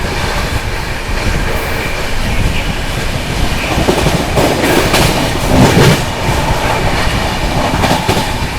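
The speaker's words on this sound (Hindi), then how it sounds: "Shiv Ganga superfast express flat 130 की रफ्तार में स्किप करने जा रही है भरतना रेलवे स्टेशन को।" The 12559 Shiv Ganga Superfast Express, heard from a 2AC coach, runs through Bharthana station at about 130 km/h with a loud, continuous rumble and rapid clickety-clack of wheels over rail joints.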